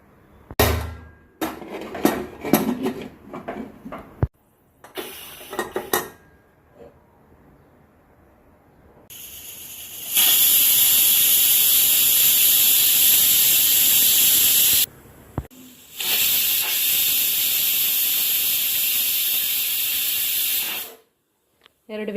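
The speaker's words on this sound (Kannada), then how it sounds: "ಎರಡು ವಿಸಿಲ್ ಆಯಿತು." Pressure cooker on the stove, cooking fenugreek porridge with ration rice, lets out two long, loud, steady steam whistles separated by a brief break, after some earlier kitchen clatter and faint voice.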